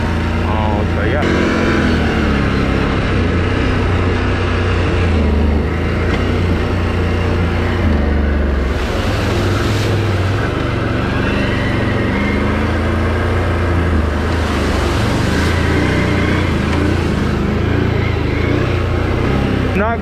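Can-Am Renegade XMR 1000 ATV engine rumbling continuously while riding outdoors, thick with wind noise and a rider talking over it, the motor swelling and easing several times.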